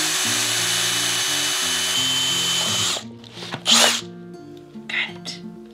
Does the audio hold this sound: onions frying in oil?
no